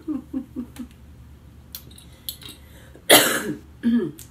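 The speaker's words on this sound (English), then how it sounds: "So pardon my cough." A person with a tickle in the throat from post-nasal draining coughs twice near the end, one loud, harsh burst followed shortly by a shorter second cough, after a stretch of faint kitchen clinks and small taps.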